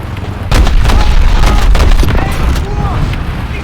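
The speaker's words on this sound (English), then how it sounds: "He exploded." Vehicle exploding in a top-tier German tank battle game: a sudden loud boom followed by a sustained rumbling roar and scattered crackles, with talk over it.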